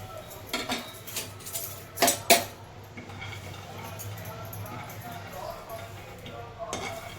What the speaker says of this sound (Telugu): అన్ని పల్లీలు నువ్వులు అన్నీ వేయించుకోవాలి ఫ్రెండ్స్